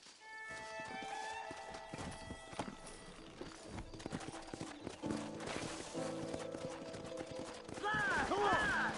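Horse hooves clip-clop in Red Dead Redemption amid game sound effects, with rhythmic hoof strikes, a horse whinny and scattered gunfire, while characters speak over the action.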